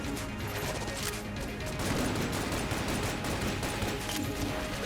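Continuous rapid gunfire in the video game Enter the Gungeon, a dense unbroken clatter of shots and impacts that stays steady throughout.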